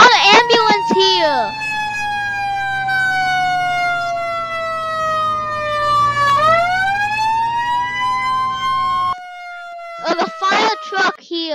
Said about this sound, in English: You got a fire truck here.